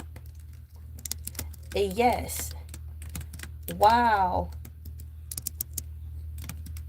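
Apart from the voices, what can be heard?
typing on a computer keyboard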